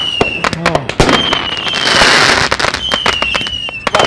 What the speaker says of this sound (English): Still people shooting off fireworks.